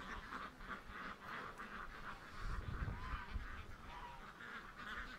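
Ducks and geese honking and quacking outdoors around a flock on a warm July day, a continuous, fairly faint chorus of overlapping honks with a deeper rumble building in the middle.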